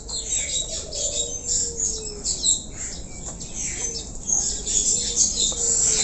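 A caged buffalo myna, or jalak kerbau, gives a run of sharp squawks, chirps and whistled calls at close range, alone and without talk, with scattered bird chatter around it.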